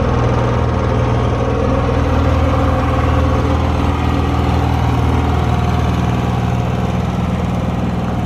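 A Honda EU6500is generator running steadily, sitting in the back of a cargo trailer, producing a loud, continuous engine drone with a constant hum that fills the whole stretch, close up and unbroken.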